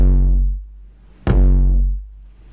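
Two deep 808 bass hits, each a booming low sub note with a sharp attack that decays smoothly over about a second, sound alone, loud and close.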